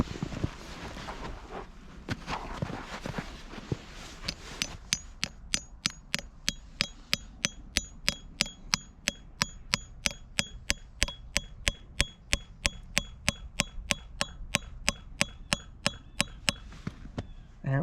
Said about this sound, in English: we are going to tap that in with a hammer